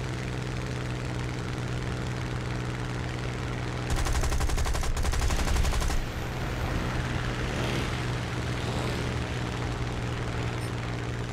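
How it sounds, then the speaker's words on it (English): Gunfire and a blast sound during aerial combat in War Thunder, heard as a loud burst of rapid machine-gun fire over a constant drone of aircraft engine noise. "I take it someone's just dropped a bomb."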